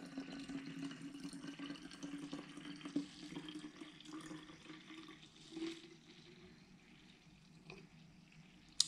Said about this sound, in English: I'm gonna fill up this bottle like the whole way